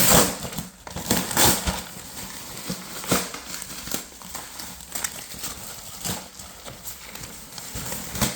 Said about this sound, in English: So open up this plastic wrapping here.